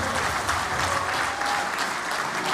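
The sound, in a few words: applause at a party launch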